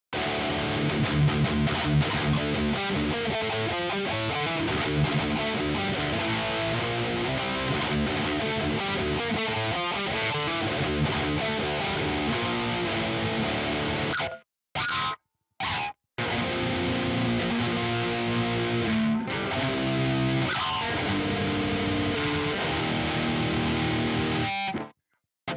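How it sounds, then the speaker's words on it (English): A cheap electric guitar with a new nut plays heavily distorted rhythm parts, chugging palm-muted riffs and chords through overdrive. The sound is loud and continuous with brief silent gaps. "And see how this handles some rhythm tones, some distorted tones."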